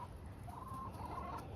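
Chickens near a rooster strutting around hens, with soft low clucking and fowl calls carrying steadily through the short stretch and a brief higher call in the middle.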